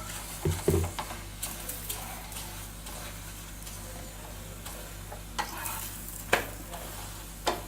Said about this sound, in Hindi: पराठे को हम दोनों साइड से क्रिस्पी और गोल्डन ब्राउन होने तक सेकेंगे।